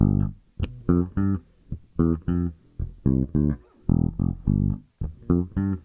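A run of short, plucked bass-register notes of a Mixolydian scale played one after another in a steady pattern, with brief gaps between them.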